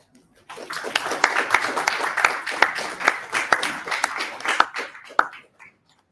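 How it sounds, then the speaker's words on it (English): An audience at a guest lecture breaks into applause, a dense patter of many hands clapping steadily for several seconds before tapering off, with a few sharper claps standing out. "with a huge round of applause"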